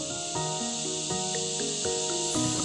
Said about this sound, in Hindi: टिड्डा कहते हैं ना, टिड्डा इसका आवाज है।